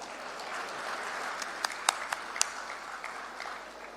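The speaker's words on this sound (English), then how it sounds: "a huge round of applause, please" Audience applause at a factory inauguration event in Rajpura, Punjab, a soft, steady patter of many hands heard from a distance, with a few sharper nearby claps in the middle.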